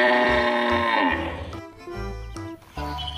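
A toy cow gives a loud, drawn-out moo followed by a few shorter electronic bleats and tones, heard close up with no talking.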